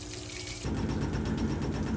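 A full-size washing machine runs inside a camper at a campground, a steady loud churning and watery rush that steps up abruptly partway through and then holds.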